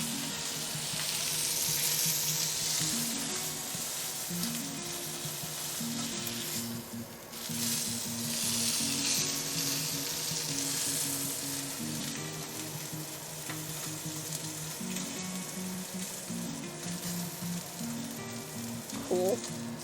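The edge of a lamb cut sears in a hot pan with a strong, continuous sizzle and crackle. A few faint scraping stirs sit underneath, and nobody speaks.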